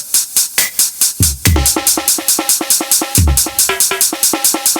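Beginner drum beat on a kit, with steady hi-hat strokes, low kick thumps and sharp snare hits falling in a repeating rhythm, loud and close with no voice.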